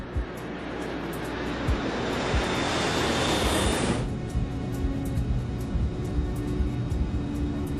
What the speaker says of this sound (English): The Royal Air Maroc flight departs without incident.